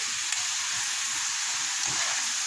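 Pieces of dough deep-frying in hot oil make a steady, dense sizzle that stays close and even, with a couple of faint clinks and no voices.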